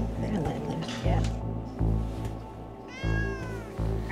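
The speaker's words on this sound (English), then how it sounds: "there's the cat" A cat meows several times in short, fairly loud calls spaced across a few seconds, with some background speech-like murmur between them.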